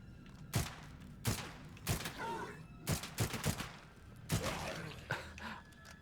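Video game gunfire in The Free People, a run of loud separate shots and short bursts spaced about a second apart, close up, with faint game sounds between them.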